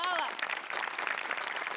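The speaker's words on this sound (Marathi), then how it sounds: "तुझ्या प्रसंगावधानासाठी जोरदार टाळ्या" A studio audience at a Marathi comedy show applauds: a brief voice opens, then dense, continuous clapping carries on to the end.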